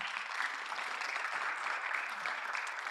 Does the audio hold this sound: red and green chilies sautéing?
no